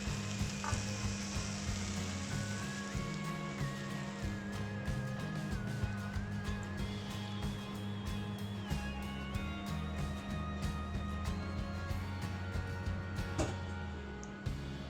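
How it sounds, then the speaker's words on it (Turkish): Steady, close sizzling and crackling as syrup is poured onto hot baklava, a continuous frying hiss with faint clinks, no talking. "Şimdi tatlımızın şerbetini veriyoruz."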